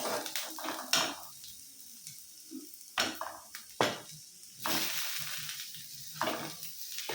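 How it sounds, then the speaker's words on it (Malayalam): Tomatoes are tipped into onions and curry leaves sautéing in a pan, then stirred with repeated scraping strokes and clatters over a low frying sizzle, close and fairly quiet, with no voices. "ഇനി നമുക്കിതിലോട്ട് തക്കാളി ഇട്ട് കൊടുക്കാം"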